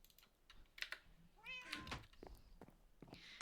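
Cats meow in the Minecraft video game, a couple of quiet mews over soft computer keyboard typing and clicks, close and faint.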